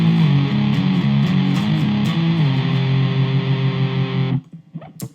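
Heavily distorted electric guitar plays a chugging riff loud and close with shifting low notes for about four seconds, then cuts off into brief scattered noise, with no one talking.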